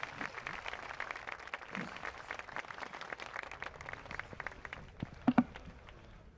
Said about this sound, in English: let's give them a round of applause as the minister presents them today